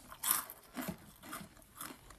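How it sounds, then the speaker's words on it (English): Someone chews loudly with wet, crunchy bites, about four distinct chewing bursts in quick rhythm, close and fairly quiet, with no talking. "Who the fuck is chewing so loud?"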